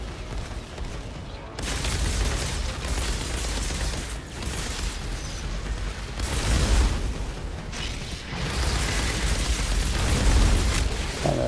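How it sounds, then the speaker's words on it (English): Explosions and weapon fire from the video game Outriders roar on without a break, a loud, dense wash of booms and crackling blasts with heavier bursts now and then. "It's a blue explosion."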